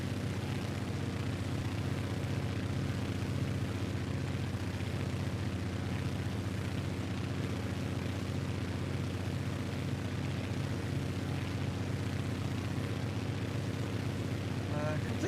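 A low flyby over terrain in a flight simulator video game carries a steady, droning aircraft engine hum that stays loud and constant throughout.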